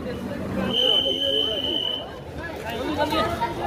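Dense passenger chatter fills a crowded second-sitting carriage on the 12074 Bhubaneswar to Howrah train, many overlapping voices close by with a steady rumble beneath and a thin whine running through the first half.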